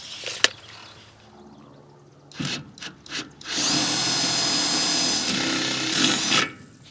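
A power drill drives screws through rubber-washered fasteners into polycarbonate panels on a high tunnel greenhouse, with a few short bursts followed by one long, loud whirring run, then a sharp stop.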